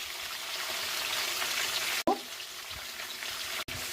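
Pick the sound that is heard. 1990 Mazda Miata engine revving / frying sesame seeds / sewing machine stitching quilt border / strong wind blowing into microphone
frying sesame seeds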